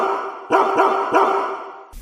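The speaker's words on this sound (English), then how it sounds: "It's the bark heard round the world." A dog barks three times in quick succession at close range, loud and sharp, opening a pet show, with a brief noise at the very end.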